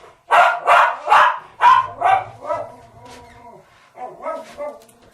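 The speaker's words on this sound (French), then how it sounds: "mon chien fait encore des siennes" A dog barks close and loud in a series of about six sharp barks that fade into softer whines, then a few more yips follow after a short pause, all indoors.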